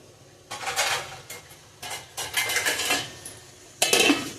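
A lid placed on a pan of Mangalore-style okra cooking on the stove, with several close bursts of metallic clattering, scraping and clinking separated by short quiet gaps, ending in a sharper clank.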